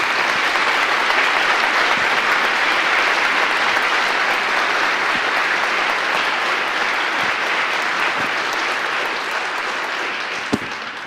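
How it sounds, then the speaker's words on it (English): Christmas concert audience of a community chorus applauding in a church, a dense, sustained wash of many hands clapping at full strength that tapers slightly near the end. "Let's give Deborah a nice round of applause"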